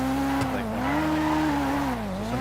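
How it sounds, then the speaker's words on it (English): A car engine in GTA 5 holds a strong tone that swells and dips as the revs change. The loud, continuous whine stays close with no voices. "Listen to the engine."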